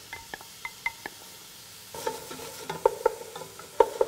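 Chopped onions, garlic, serrano and red pepper sauté in a pot: light clinks and taps at first, then a bright sizzle picks up halfway with utensil knocks against the pot, close by, no voices.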